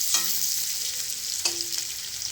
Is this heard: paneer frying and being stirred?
yes